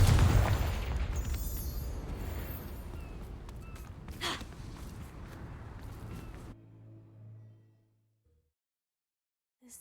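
Spell explosions from the Bombarda and Confringo curses in the video game Hogwarts Legacy come as a rumbling, crackling roar with a sharp burst in the middle, then cut off abruptly into near silence.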